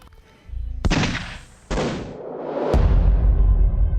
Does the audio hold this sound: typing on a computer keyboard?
no